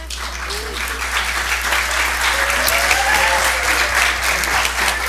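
School supporters applaud at a school board meeting for an elementary school showcase, dense sustained clapping from a crowded room that runs unbroken throughout, with a low steady hum beneath.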